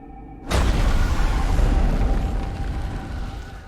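A loud explosion bursts in after half a second of quiet during a Black Widow film scene, a heavy deep boom that rolls on with a dense rumbling tail and slowly fades without dying out.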